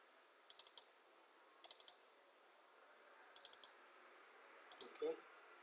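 Clusters of quick, faint clicks from a computer mouse while working in Microsoft Excel, arriving in four short bursts of three or four clicks each, spaced roughly a second apart over a quiet background.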